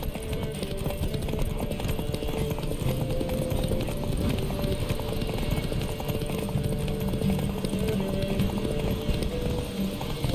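In The Witcher 3, horses gallop in a race with a dense, continuous drumming of hoofbeats close by. The pounding runs under game music and faint ambient noise.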